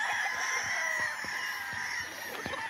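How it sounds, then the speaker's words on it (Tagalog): Chickens on a wide farm cluck and call in a steady background chorus, with short clucks and crowing-like calls repeating at moderate distance, no talk over them. "May mga manok."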